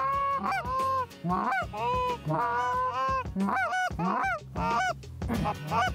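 Canada geese honk repeatedly in a dense, overlapping chorus of rising and falling calls, loud and near, with no pauses, out in the open on a Montana goose hunt.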